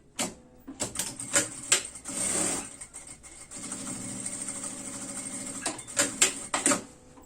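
A sewing machine stitching a seam on a fabric baby-stroller bag, its motor whirring in two sustained runs amid sharp clicks and handling taps, close up and clear.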